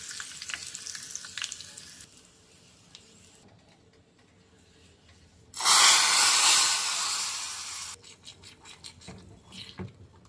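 A South Indian rasam tempering of dried red chili, asafoetida and curry leaves hits hot oil, starting with scattered pops before a sudden loud burst of sizzling that fades into crackling and spitting.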